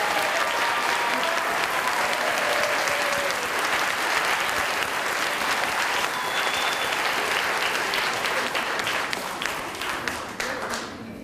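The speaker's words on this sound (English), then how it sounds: "we need a big round of applause for Mike Elmer" Loud, sustained applause from a large crowd at a fitness room dedication, dense clapping that continues throughout and thins slightly near the end.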